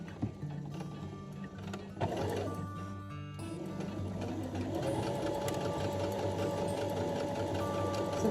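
Domestic sewing machine running a back stitch under foot control, a steady close mechanical whir with rapid needle chatter that pauses briefly and then resumes continuously, with no voices.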